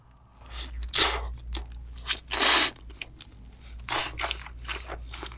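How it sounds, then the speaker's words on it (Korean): Raw long-arm octopus (nakji) is eaten close to the mic in a mukbang, with wet crunching, biting and squishy chewing in uneven bursts, including one loud stretch, and no talking. "낙지부터 먹어볼게요."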